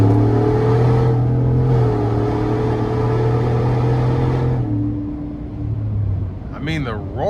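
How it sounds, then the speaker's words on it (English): A 700-horsepower 2020 Saleen F-150 SportTruck pickup engine and exhaust roar loudly under hard acceleration, a deep steady drone that climbs and then eases off, followed by a voice. "the roar you get is just crazy from the exhaust"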